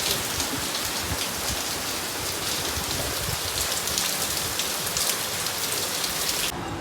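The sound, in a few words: sudden heavy rain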